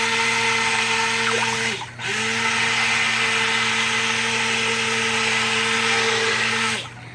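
A stick blender whirs steadily through cold process soap batter while bringing it to trace, a loud continuous motor hum that briefly cuts out and restarts, then cuts out again at the end.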